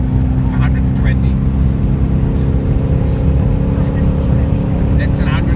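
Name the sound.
car engine accelerating hard at full throttle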